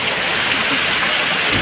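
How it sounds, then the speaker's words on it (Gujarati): Heavy downpour of rain in Chhapi village, a dense, steady broadband wash with no pauses, loud and close throughout. "ધોધમાર વરસાદ પડે છે ભાઈ."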